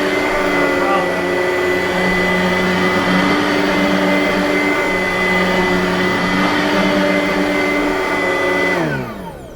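A Simplicity Freedom vacuum cleaner runs steadily and loudly with a constant motor whine and airflow roar, holding an even level throughout before winding down abruptly in the final half second.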